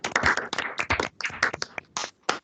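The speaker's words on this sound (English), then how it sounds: "Please open your microphones for analog or digital applause for this rich and richly referenced talk" Brief scattered applause from a small remote audience after a fashion talk, a few people clapping close to their microphones, uneven and thin, then trailing off to silence.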